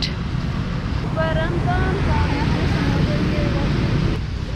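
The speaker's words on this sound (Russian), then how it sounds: "Юрий хорошо спит с этими звуками, мотоцикл" A steady roar of motorcycle traffic on a street in Vietnam fills the background while people talk nearby.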